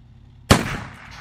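A single sharp gunshot cracks out in a survival racing video game, loud and close after near silence, followed by a brief decaying echo.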